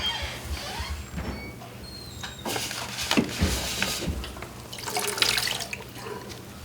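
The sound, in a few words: pouring coconut water into a measuring cup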